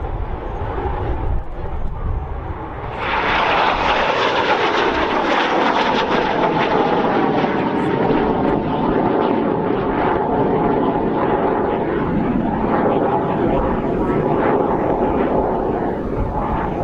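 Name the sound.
Jet Provost Mark V jet aircraft flying by at air show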